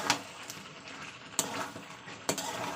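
Potatoes and bottle gourd stir-fry in a pan with a low, steady sizzle, broken by three sharp spatula clanks against the metal at irregular intervals.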